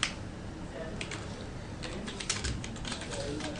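Code is typed on a computer keyboard in a quick series of light, close key clicks, mostly irregular taps with a couple of denser bursts, over a noisy background.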